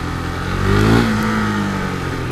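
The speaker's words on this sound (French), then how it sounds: "Donc là on est sur un monocylindre 4 temps de environ 400 cm3" A Husqvarna Vitpilen 401, a four-stroke single-cylinder motorcycle of about 400 cc, accelerates up close, its engine note rising into a loud, throaty rev before holding at a steady drone.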